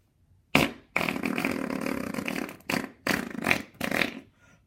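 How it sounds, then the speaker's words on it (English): Loud, close fart noises for an outro: one short burst, then a long sputtering blast followed by three shorter rasping ones, with no talking. "do the outro with the fart noise"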